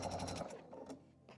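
A sewing machine chain piecing quilt fabric runs in a short quiet burst of rapid stitching, then pauses with a faint whir, close and soft, with no talking.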